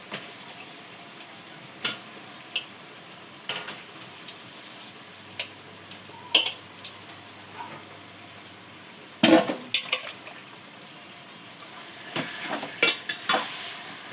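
Chicken pieces marinated with salt and chili powder go into a pan to cook as curry, giving a quiet, steady sizzle with scattered clinks and scrapes of stirring, growing busier toward the end.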